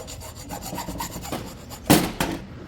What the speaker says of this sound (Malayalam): ആദ്യം പി വി സി പൈപ്പിനെ കട്ട് ചെയ്യാം ഒരു പതിമൂന്ന് സെൻറ്റിമീറ്ററായിട്ട്